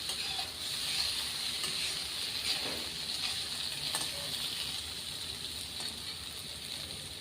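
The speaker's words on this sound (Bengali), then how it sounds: "অনেকটাই নরম হয়ে গেছে, আর একটু ভাজা ভাজা করবো।" Vegetables for Bengali shukto, including softened eggplant, fry in an oil pan over a high gas flame, giving a steady, moderately loud sizzle and hiss that runs evenly through the whole stretch with no talking.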